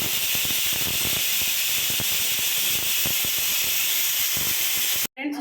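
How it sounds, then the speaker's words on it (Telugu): A pressure cooker whistles steadily, jetting steam in a loud, continuous hiss while gongura dal cooks, running about five seconds before cutting off abruptly. "విజిల్ స్టార్ట్ అవుతుందనమాట"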